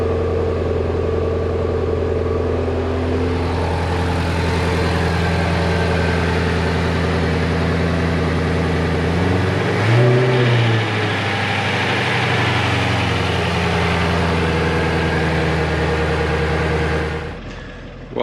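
A stock 2016 Ford Shelby GT350 V8 idles steadily up close, a continuous low rumble with a brief rev swell midway before cutting off near the end.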